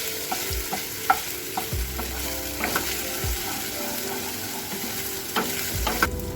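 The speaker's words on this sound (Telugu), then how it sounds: "అల్లం వెల్లుల్లి పేస్ట్ స్మెల్ పోయేదాకా బాగా యాగనియాలి" Ginger garlic paste sizzles in hot oil as it is stirred, with a steady frying hiss broken by repeated scraping and tapping strokes of a spoon against the pan.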